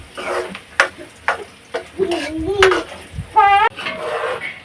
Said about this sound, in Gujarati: તેલ નાખે જો ડુંગળીનો સરસ મજાનો વઘાર દઈએ